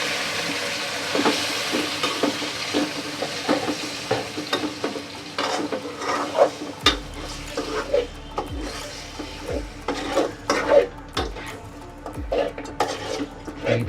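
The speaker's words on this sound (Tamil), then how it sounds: "ஸோ இப்போது நம்ம மிக்ஸ் பண்ணி வச்சுருக்க சிக்கனை இதை ஆட் பண்ணிப்போம்" Marinated chicken tipped into a hot pan for a chicken curry, bursting into a loud close sizzle and fry that continues steadily, punctuated by repeated scraping stirs and clatters of a spoon against the pan.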